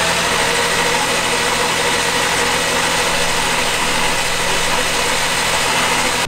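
A BMW E36 engine cranks over before a compression test, giving a loud, continuous churning mechanical drone that holds steady throughout, with no voices.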